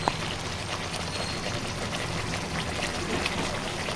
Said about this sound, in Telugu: తర్వాత సరిపోను నీళ్లు పోసుకోవాలి